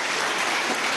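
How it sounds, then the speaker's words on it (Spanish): A crowd at a political event marking twelve years of a literacy mission claps steadily, a dense, loud wash of applause lasting about a second. "Un aplauso a Noreima."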